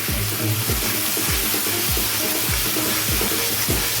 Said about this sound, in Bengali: হলুদটা দিয়ে একটু নাড়িয়ে নেব এইভাবে